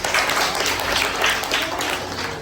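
A group of children in a classroom word game claps together, producing a dense, fairly loud patter of hand claps that runs the whole time, with faint voices underneath.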